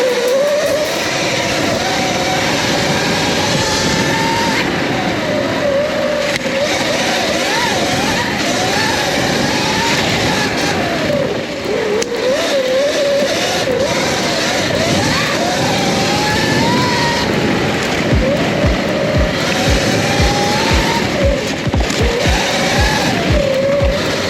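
Upgraded Surron electric pit bike ridden hard on an enduro trail, its motor whine rising and falling steadily and close throughout, with wind rush, tyre and chain noise, and rapid knocks over rough ground near the end.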